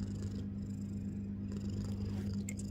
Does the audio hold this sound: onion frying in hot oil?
no